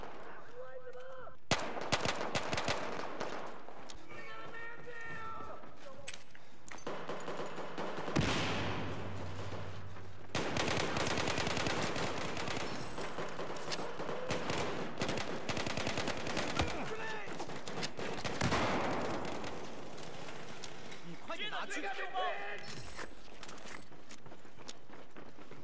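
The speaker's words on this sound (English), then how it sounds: "If you slow tap fire, you're still getting pretty good accuracy with this weapon." Rapid bursts of G18 pistol fire in Battlefield 4 gameplay crackle through most of the stretch, dense and loud with brief gaps between volleys, alongside in-game effects and faint footsteps.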